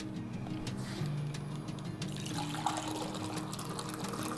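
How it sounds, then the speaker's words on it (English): Hot water poured into a pot of white bean soup with orzo and kale, a continuous gurgling pour and trickle of moderate loudness running for several seconds, with no talking. "and we're gonna use some hot water."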